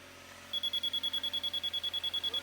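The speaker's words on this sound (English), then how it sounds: "This is a receiver, so whenever it's in range, it beeps and lets you know" A rapid series of short, high-pitched electronic beeps starts after a brief pause and repeats evenly, about seven per second, like a laser level receiver signaling.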